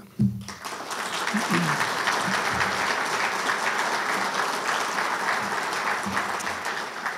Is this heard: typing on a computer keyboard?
no